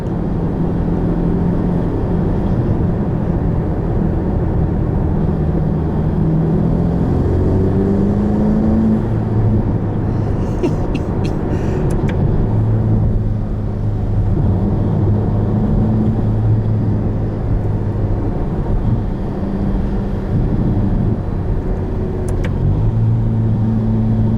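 Ferrari Roma engine heard from inside the cabin, a steady, loud drone pulling in fifth gear on a loose, low-grip surface, the pitch rising gradually over a long stretch with no talking.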